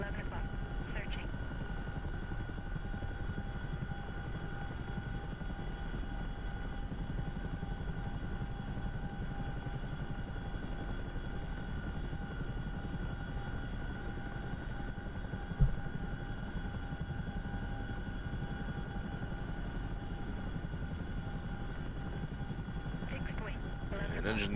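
Aircraft engines run in a combat flight simulator, a steady, droning whine and hum with tonal lines that holds level throughout, with one brief click partway through.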